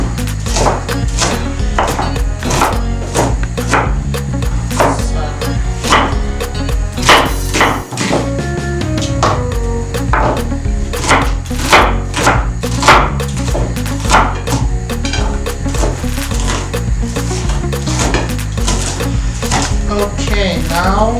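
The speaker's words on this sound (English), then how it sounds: "I'm going to slice them. I tell you need a lot of onion. So I'm slicing them." A knife slicing onions for native jollof rice, rapid steady chopping strikes on a board in a fast even rhythm, close and loud throughout.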